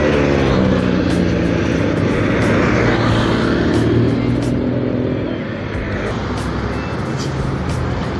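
A Harapan Jaya bus roars past on a busy arterial road at dusk, a loud, sustained engine and tyre rumble close by that eases slightly as it moves away, amid other heavy traffic.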